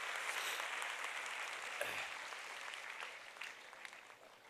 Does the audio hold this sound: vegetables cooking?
no